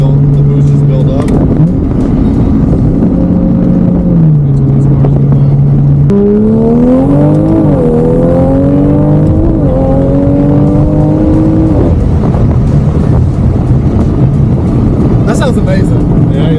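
Big-turbo Toyota Supra pulls hard in second gear, its engine note climbing steadily from inside the car with boost building, loud and continuous under occasional talk from the occupants.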